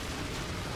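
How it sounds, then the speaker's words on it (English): A grenade blast in the video game Modern Warfare 3, heard as a brief, broad roar of noise filling the moment at a steady, moderate level without a distinct onset. "Oh shit, grenade."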